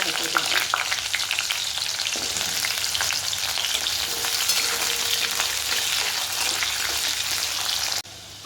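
Potatoes frying in mustard oil with black cumin seeds in a wok, giving a loud, continuous close sizzle with crackling pops and occasional stirring, cutting off sharply near the end.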